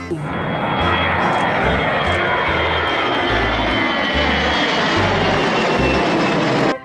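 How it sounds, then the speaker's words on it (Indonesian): A loud airplane engine roars steadily overhead, a broad rumbling drone that holds for several seconds before cutting off abruptly. "Wow, lihat teman-teman. Ada pesawat terbang."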